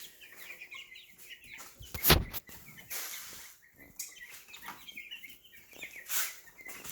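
Chickens cluck in a small flock of baby chicks, soft scattered peeps and clucks up close with a few louder bursts, no talking.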